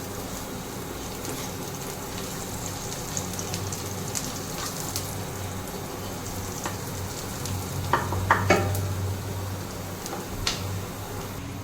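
Dried red chillies and nigella seeds sizzle in hot oil on a home stove, a steady crackling hiss with a few sharper pops partway through, close and alone.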